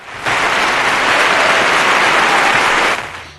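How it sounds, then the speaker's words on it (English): A round of applause plays on a Saturday morning radio show, a dense wash of clapping that starts abruptly, holds at an even loud level for under three seconds, then cuts off with a short fade. "I should give you all a round of applause."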